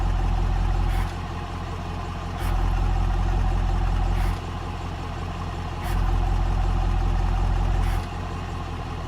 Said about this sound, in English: you can audibly hear the exhaust changing as you go from Tour, which is the luxury mode, into Sport and Performance